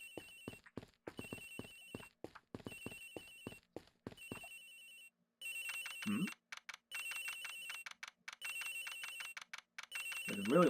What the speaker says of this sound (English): The ring's coming from somewhere in here, sir.